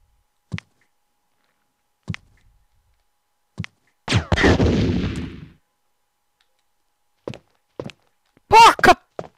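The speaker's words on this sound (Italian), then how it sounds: "Prepariamoci a sparare." Gunshots in the video game Resident Evil Director's Cut: sparse, sharp thuds and bangs spaced across the clip, one followed by a longer rumbling burst, and someone talking at the end.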